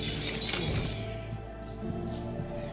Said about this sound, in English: That was a zombie crashing through a window somewhere